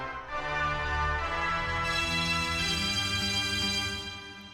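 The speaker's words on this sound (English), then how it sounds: "Okay, this is the organ." A church organ in the video game The Wild West holds a full, sustained chord that swells and changes smoothly over several seconds, steady and fairly loud, with no talking.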